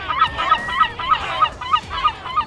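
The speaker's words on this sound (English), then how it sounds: "Seagulls are often seen as pests on shorelines around the world" Seagull calls: about eight loud, close, harsh honking cries repeating in a quick, fairly even rhythm, with no voices over them.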